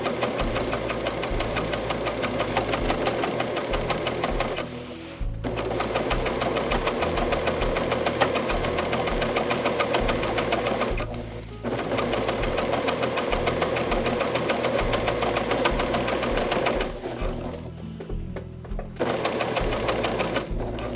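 A sewing machine stitches fabric through a rolled edge hemmer foot in steady, loud runs, stopping briefly at three points as the hands are repositioned.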